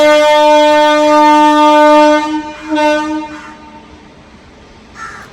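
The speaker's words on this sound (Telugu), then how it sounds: "మనం ఇక్కడ నుంచి బయటికి వెళ్ళిపోయినంత వరకు మనకి ట్రైన్ సౌండ్ వస్తూనే ఉంటుంది" A loud, sustained train horn blares nearby for about two seconds, then breaks into shorter honks and fades, followed by quieter rail noise and a brief final hoot.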